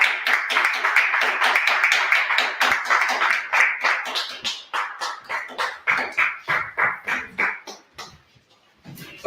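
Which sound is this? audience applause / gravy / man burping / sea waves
audience applause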